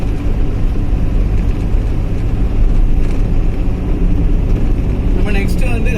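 A Maruti 800 carburettor car drives on a one-litre mileage test, its engine and road noise forming a loud, steady low rumble from inside the cabin that continues without a break.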